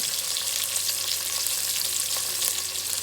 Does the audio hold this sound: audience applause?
no